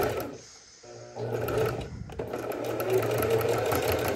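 A sewing machine runs steadily, stitching a suede knit pajama top with a continuous mechanical whir after a brief quiet start, close and moderately loud.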